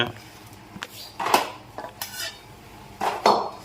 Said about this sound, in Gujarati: લાડવાને હલાવતા જવા દો મિક્સ કરે છે